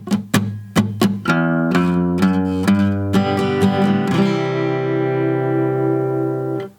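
Acoustic guitar lesson playing the intro to a song slowly: a few muted strums and picked notes, then a strummed pattern leading into a walk-up riff that rings out and fades at the end, clear and close with no talking.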